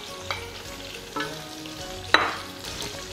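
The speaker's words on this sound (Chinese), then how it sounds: "然后把蒜放下去" Garlic dropped into a hot wok of pork that has already rendered its fat, frying with a steady close sizzle on a gas stove, broken by a few sharp stirring clatters, with no talk.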